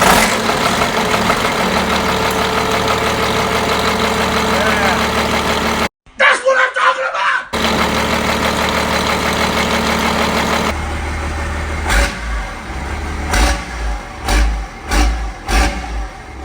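A Chevy Viking truck engine, newly fitted with injectors and retimed, idles with a steady rumble; a brief gap cuts through the middle, then the running engine resumes with a few louder rev pulses near the end, under some background talk.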